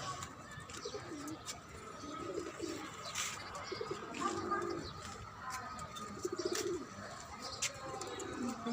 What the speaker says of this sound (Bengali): এদিকে আছে কবুতর।